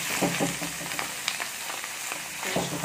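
Chopped onion and small pieces of button mushroom sizzle steadily in a hot pan, with a few soft stirring scrapes over the continuous close frying hiss.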